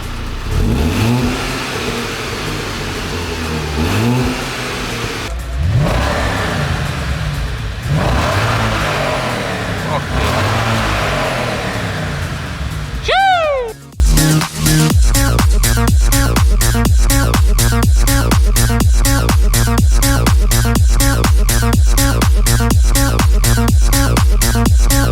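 Car engines start and rev at a workshop, ahead of an Audi S5 V8 with its rear exhaust silencer deleted: several rising revs first, then a loud crank and catch into a fast, heavy, pulsing idle held close and steady.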